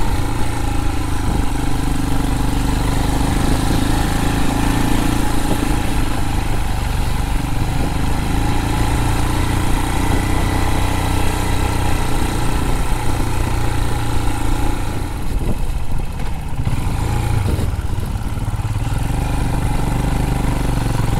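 A motorcycle engine labours steadily up a steep incline in first gear in Snowdonia, a loud, continuous chugging drone close to the rider with little change in pitch throughout.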